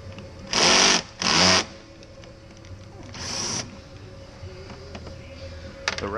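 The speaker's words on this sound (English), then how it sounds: "ratcheting sound is the clutch" A tool's clutch ratchets on a bolt of a Can-Am Spyder RT during a twin oil change in a workshop: two loud, close mechanical buzzing bursts, then a softer third one, with faint shop noise between.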